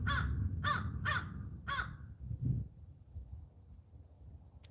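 Several crows caw outdoors on a cold, sunny day, four harsh calls in quick succession up front before fading into quiet wind noise.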